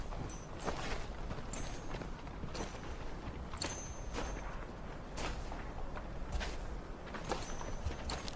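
Horses walk along at a steady pace in a Western setting, their hooves clip-clopping in a quiet, irregular rhythm of soft thuds and clacks at middle distance.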